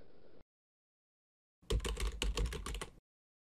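Keyboard typing in the video game Super Desktop 3: a brief burst of rapid, fairly loud key clicks following a short silence, with no voices.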